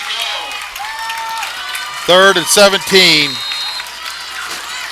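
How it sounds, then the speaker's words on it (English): A college football stadium crowd on the Bulldog side roars steadily during a late-game Columbia possession, the broad crowd noise running under a close announcer's play-by-play. "now the crowd is getting fired up over here on the Bulldog side"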